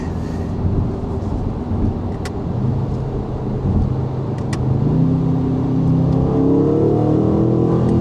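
A car accelerates hard from inside the cabin, a deep engine rumble building and swelling louder over several seconds with a rising drone toward the end, alone without talk.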